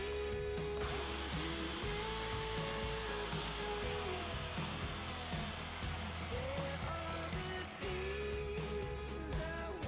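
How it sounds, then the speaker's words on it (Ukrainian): An electric saw runs in a homemade jig for cutting branches, making a loud, steady mechanical whine and hum that continues throughout without any break. "нажимаєте якимось патиком на цю штальвагу, запускається пилка"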